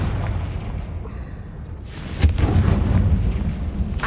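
Confringo spell in the Hogwarts Legacy video game: a fiery blast bursts out with a sharp boom followed by rumbling debris, loud and close, after a quieter lead-in.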